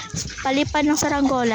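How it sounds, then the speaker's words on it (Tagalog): A dog yaps and whimpers in short, high, tonal bursts, loud and close, mixed in with continuous talking. "Pasensya sa aso mga kasisi ko, ang ingay."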